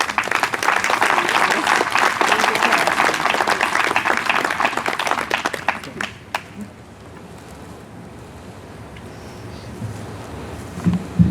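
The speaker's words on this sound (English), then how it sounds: "one last round of applause for Mr. Howdy" Audience applause at a science building dedication ceremony, a dense, loud round of clapping that fills the first six seconds, then tapers off into quiet room tone with faint stirring.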